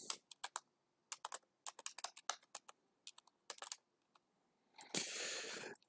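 Keys clatter on a computer keyboard in short irregular bursts with pauses between them, close and fairly crisp, ending in a brief hiss of broadband noise.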